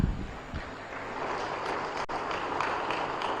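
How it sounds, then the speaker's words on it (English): An audience applauding at an international health conference, a broad steady wash of clapping from a large hall, fairly distant and even, with no talk over it. "Another round of applause, please."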